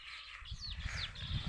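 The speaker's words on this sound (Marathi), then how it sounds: "ते चिमण्या मस्तपैकी चिवचिव करतात." Sparrows chirp in the shade beneath a tree on a hot day, with several short, bright calls close by over a steady low rumble of background noise.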